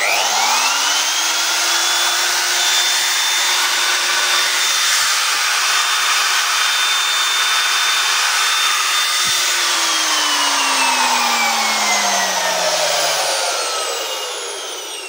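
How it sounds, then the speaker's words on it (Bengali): A wood router machine for furniture design work runs at high speed, a loud, steady, smooth high-pitched whine that holds for several seconds, then its pitch slides down toward the end as the motor winds down. "এই যে দেখুন মেশিনটা এখন দেখুন রানিং, দেখুন অনেক স্পিড।"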